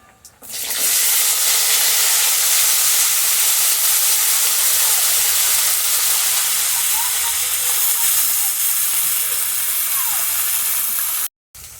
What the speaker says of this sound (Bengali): আমি পুঁই বিজড়িগুলো এবার দিয়ে দিচ্ছি ওই তেলের মধ্যে